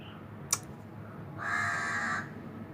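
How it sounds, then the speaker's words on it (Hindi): A crow caws outside, one drawn-out harsh call heard at moderate distance after a brief sharp click, set against quiet indoor ambience; no speech. "देखो कौवा आ गया बाहर।"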